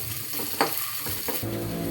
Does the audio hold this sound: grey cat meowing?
no